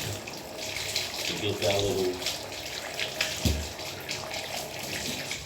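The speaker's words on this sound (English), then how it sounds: "Some people turn on their water" Tap water runs steadily into a bathtub being cleaned with Ajax, a continuous close hiss of flowing water beneath a person talking throughout.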